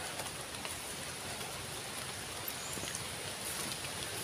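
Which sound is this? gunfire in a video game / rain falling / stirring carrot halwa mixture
rain falling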